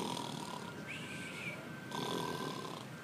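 Snoring sounds for a wolf in a storybook narration, a few drawn-out rasping breaths at moderate level, apparently voiced by the narrator imitating the snore.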